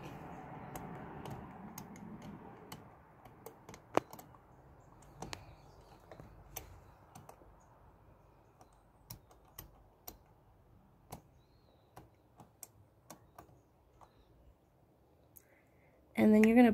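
Buttons pressed on the keypad of a front door lockbox, a series of sharp isolated clicks spaced a second or so apart, faint and close, after a stretch of quiet talk, with a louder noise right at the end.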